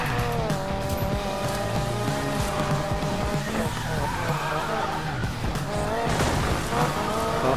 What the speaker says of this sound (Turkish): drift yapmaya başladığın zaman acayip hızlanmaya başlıyor